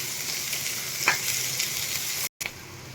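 Onions sauté in a pan over a medium gas flame for a paneer gravy, giving a steady, close sizzling hiss with a brief spatula scrape near the middle and a momentary dropout near the end.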